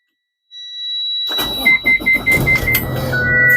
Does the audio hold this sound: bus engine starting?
yes